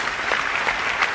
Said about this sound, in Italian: un omaggio senz'altro dal Teatro dell'Opera di Roma con un applauso potente e forte